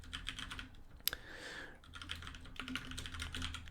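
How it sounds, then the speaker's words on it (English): Code being typed on a computer keyboard: a continuous run of quick, close key clicks with a couple of sharper knocks, no talking. "I'm going to type some new code in now."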